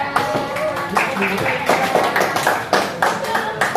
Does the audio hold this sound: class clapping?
yes